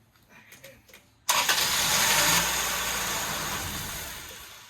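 A Toyota Tercel engine cranks and catches abruptly, then settles into a loud, steady running idle that slowly eases off, with faint sounds and voices just before it fires.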